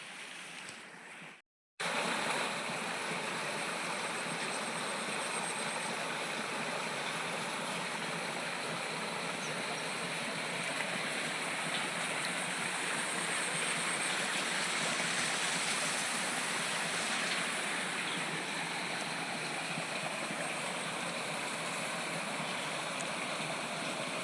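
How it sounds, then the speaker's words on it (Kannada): An overflowing village lake near Gajendragada spills out and runs like a stream, a steady, full rush of water that carries on unbroken and alone after a brief opening gap. "ತುಂಬಿಕ್ಕಿ ಹರಿಯುತ್ತಿರುವಂಥ ನೀರು ಎಷ್ಟು ಚಂದವಾಗಿ ಹರಿತಾ ಇದೆ"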